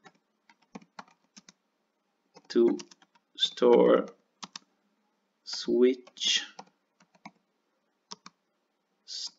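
Clicky computer keyboard typing while coding a sensor-control program: scattered sharp key taps in short bursts and isolated clicks, close and fairly quiet, with someone speaking intermittently in between.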